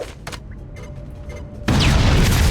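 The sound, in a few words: explosion in the video game XCOM: Chimera Squad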